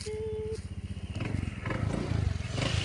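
Companions' motorcycles pass by close and loud, their engines throbbing and revving with a low pulsing rumble that grows over a few seconds.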